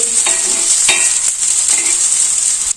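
Mini onion uttapam frying in oil on a pan, a steady close sizzle with a few scraping stirs as it is flipped.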